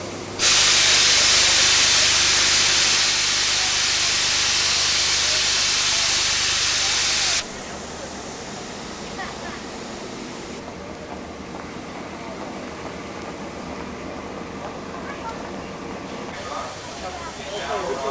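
The Flying Scotsman steam locomotive lets off a loud, continuous hiss of steam for several seconds that cuts off abruptly, followed by quieter ambient sound with people talking.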